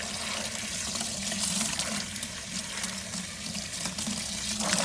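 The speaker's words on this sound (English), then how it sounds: "Wash everything out of my cup." Tap water runs steadily into a cup, rinsing fertilizer residue from it, a close continuous splashing rush of water with no talking.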